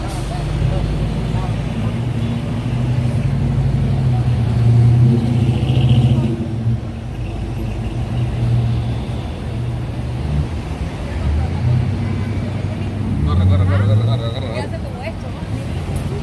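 Manhattan city street traffic near Times Square, with a steady low rumble of passing cars and buses and occasional engines revving, continuous under crowd chatter and a talking voice close by.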